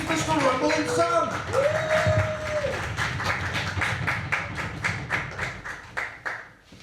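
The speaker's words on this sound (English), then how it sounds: "we're going to give it a big St. John's warm welcome by stamping our feet. Clap our hands" A comedy club audience stamps its feet and claps in a steady, rhythmic pounding that carries on for several seconds and then fades, with a voice speaking briefly at the start.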